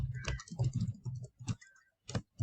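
Fingers type on a computer keyboard in short bursts of close, clicky keystrokes with brief pauses between groups.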